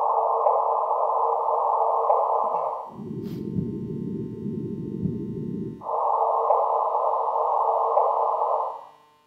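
Sonified LIGO gravitational-wave detector data, played both at its original low frequency and shifted higher: a steady, moderately loud droning hum that switches from a higher band to a low rumbling band and back, with a brief click at the change and no voices.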